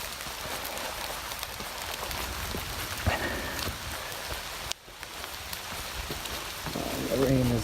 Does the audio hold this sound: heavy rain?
yes